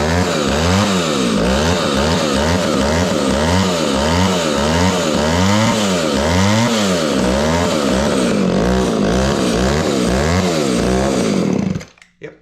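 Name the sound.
Echo 280e chainsaw engine running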